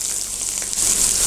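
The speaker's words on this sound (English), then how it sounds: "That sizzling sound, that's absolutely what you want to hear." Steak sizzles in a hot pan with a steady, close, hissing crackle that swells slightly near the end, with no voices.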